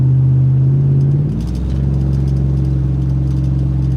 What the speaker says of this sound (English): My truck. That's 3-inch stainless exhaust. Cat delete.